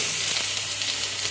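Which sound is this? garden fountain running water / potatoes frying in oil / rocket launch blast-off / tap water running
potatoes frying in oil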